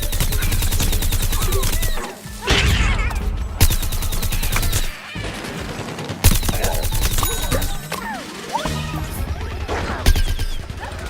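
Sunflower's Sunbeam attack in Plants vs. Zombies Garden Warfare fires in loud, rapid bursts of crackling blasts and crashes, with brief pauses between volleys amid dense, noisy battle effects.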